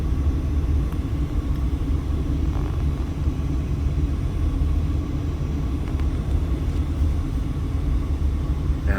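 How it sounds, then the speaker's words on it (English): Heavy road traffic streams past the Sahara Casino in Las Vegas on a weekday afternoon, a steady close rumble of many engines that never lets up. "And of course you can see traffic is nuts."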